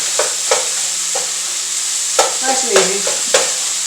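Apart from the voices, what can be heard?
stirring ground beef frying in a pan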